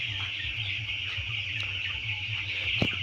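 Broiler chickens in a curtained farm shed in winter, with faint scattered clucks under a constant background hum and a high steady whine, heard briefly and quietly.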